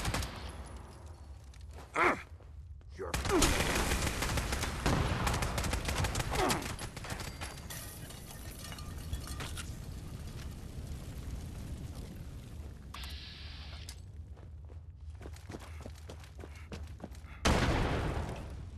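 Gunfire in the video game Fallout 76 on PC: dense, sustained rattling and booming bursts filling most of the stretch, loud with short gaps, and no talk.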